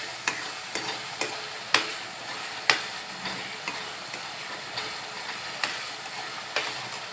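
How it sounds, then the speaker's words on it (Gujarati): Masala paste for bhindi masala stirred as it fries in oil, a soft continuous sizzle broken by a regular run of sharp spoon scrapes against the pan, close and moderately quiet. "પેસ્ટને ત્યાં સુધી હલાવતા રહીશું જ્યાં સુધી તેમાંથી તેલ છૂટું ન પડે"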